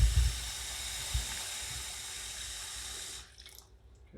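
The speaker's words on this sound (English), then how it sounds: "Make sure to fill up your pot with water" Tap water pouring steadily into a cooking pot for a Bulgarian lamb casserole, a continuous loud rushing hiss that cuts off near the end, leaving a few faint drips and clatters.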